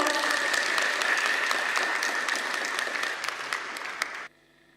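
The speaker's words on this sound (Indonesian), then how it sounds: "Boleh tepuk tangan dong." An audience at an Islamic school Ramadan program breaks into applause, a dense sustained clapping that holds for about four seconds, fades slightly, then cuts off abruptly.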